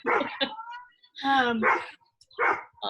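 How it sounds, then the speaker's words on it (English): A household dog barks in short bursts somewhere in the room, the barks mixed in with people talking nearby. "Barking dog."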